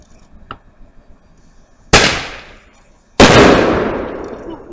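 Two loud New Year's Eve firework bangs a little over a second apart, each with a crackling, slowly fading tail, after a faint pop.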